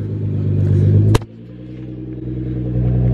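A Nissan R35 GTR engine revs loudly nearby, building into a strong roar, then cutting sharply with a pop before settling back to a steady, rising rumble.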